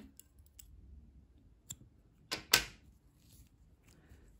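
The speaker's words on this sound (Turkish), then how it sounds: "İpliği burada kesiyorum." Scissors snipping thread during sewing work on a garment's buttonholes: a few faint clicks, then two close, sharp cuts in quick succession against a quiet room.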